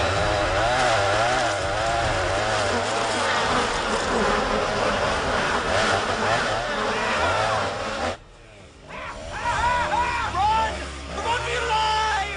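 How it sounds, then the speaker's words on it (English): A chainsaw roars continuously in a horror-comedy movie scene, its buzzing engine rising and falling with revving over crowd noise and voices, dropping out briefly before starting up again. "Judas Priest, dude, drop the damn chainsaw."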